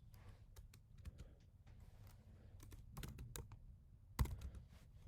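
Text being typed on a computer keyboard: quiet, irregular runs of light key clicks with a few louder taps, heard close up against a soft background hum, with no talking.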